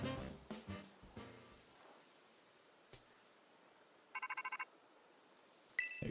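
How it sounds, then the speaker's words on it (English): Phone in Pokemon Violet rings with a short, close burst of rapid electronic trills, a quick series of about six beeps over a quiet background, with brief game sound effects before and after. "There goes our welcome phone again."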